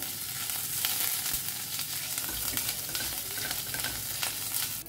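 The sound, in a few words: ginger frying in a pan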